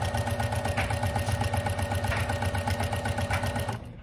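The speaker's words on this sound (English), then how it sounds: "I'm stitching at 1/4 inch. So I'm gonna stitch going towards the corner." A sewing machine stitches a mini quilt at a quarter-inch seam, running steadily and close with a fast, even mechanical hum and needle rattle before stopping near the end.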